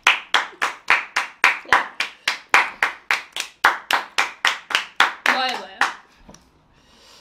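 Hands clapping in a quick, even rhythm of about twenty sharp claps, close and loud, ending with a brief rustle and near silence after a chowmein eating challenge.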